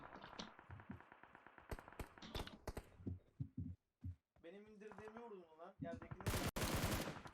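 Rapid bursts of automatic gunfire in PUBG Mobile, sharp repeated shots in quick strings, mixed with excited talking from players over the game sound.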